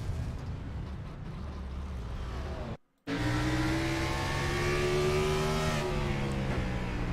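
A race car accelerates at Martinsville, recorded from an onboard camera: a loud engine drone, a brief dropout, then a rising whine as the revs climb and hold with no voices.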